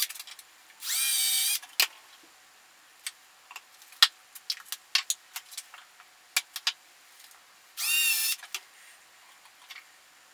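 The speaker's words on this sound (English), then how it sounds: "So I'm just going to get a 2mm drill bit, drill these holes out" Two short, loud bursts of a small power drill boring 2mm holes into a Telecaster guitar body, each about a second long, separated by scattered clicks and taps of handling.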